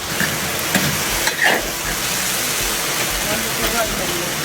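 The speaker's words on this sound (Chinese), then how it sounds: "豇豆角给它炒一炒蔫巴了。 给它炒的过油那样的蔫巴" Long cowpea beans are stir-fried in hot oil in a wok until they wilt, giving a continuous loud sizzle with occasional scrapes and clanks of stirring in a home kitchen.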